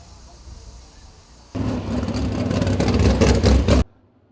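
Low background hum, then a loud surge of roaring, revving engines as 410 and 358 sprint cars race past at Williams Grove Speedway, cutting off abruptly.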